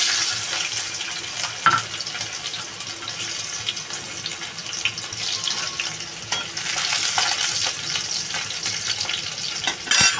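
Garlic fries in hot oil in a home Bengali kitchen, a close crackling sizzle with scattered pops and clinks of stirring, plus brief water-like splashes, all without speech.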